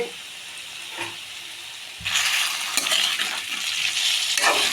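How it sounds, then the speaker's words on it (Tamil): Brinjal sautéing and being stirred in hot oil in a pan for a brinjal thokku, starting quiet, then a loud, steady sizzle with scraping stir strokes from about two seconds on, close up and with no talk. "இப்போ கத்திரிக்காய் இங்கே நல்லா வதங்கிட்டு இருக்கு"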